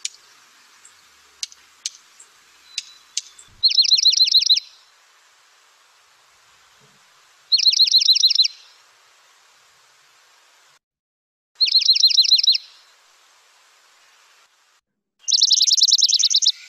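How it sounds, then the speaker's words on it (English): Dark-eyed junco song recorded near Lake Tahoe: four clear, rapid musical trills, each about a second long and evenly spaced several seconds apart, loud and close over faint hiss, with a few soft clicks at the start. "Now, the trill that the junco makes"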